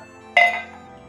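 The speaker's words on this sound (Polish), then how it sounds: "Mamy tu już lód, szklanicę." Ice drops into a glass tumbler prepared for Johnnie Walker Red Rye Finish whisky, making a single bright clink that rings briefly and fades within about half a second.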